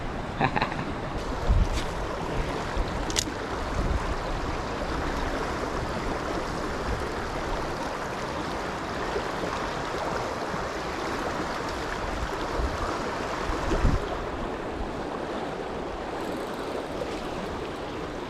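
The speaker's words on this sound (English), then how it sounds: "The river is very strong" The strong current of the Quinebaug River in Connecticut rushes continuously, a dense, steady roar of flowing water mixed with wind buffeting the microphone during a fishing outing, with no clear voices.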